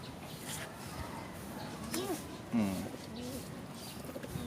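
A pigeon in a loft gives a couple of soft, low coos, faint and close, over quiet background rustle.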